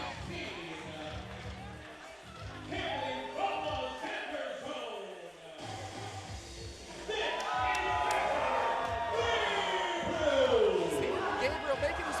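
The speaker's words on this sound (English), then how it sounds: "crowd going nuts right now" Crowd at a 2PW pro wrestling event cheering and roaring, a dense wash of noise that swells louder in the second half, with commentators talking over it.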